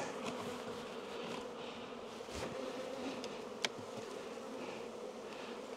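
Honey bees buzz in a steady, dense drone around an opened hive during a split to prevent swarming, faint and continuous, with a few small knocks and one sharp tap, no voices.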